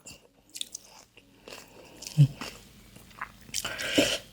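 Crunchy angel-wing jellyfish, dipped in chili paste and eaten with seafood, chewed close up in a few sharp, crisp bites and crunches with quiet gaps between them, no talking.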